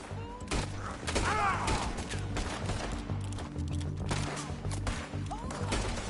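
Gunfire in Red Dead Redemption 2 during a rocky shootout, with several sharp shots scattered over a steady mid-level din of game music and effects; some speech-like sounds drift through the mix.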